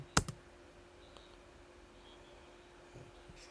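A single sharp click of the Enter key on a MacBook keyboard, followed by a faint second tap, then quiet room hiss.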